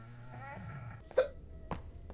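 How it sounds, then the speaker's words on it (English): One sharp, short hiccup comes from a video game, with a second, smaller hiccup-like blip after it. A low murmur of background sound from the game runs under both. "I heard the hiccup."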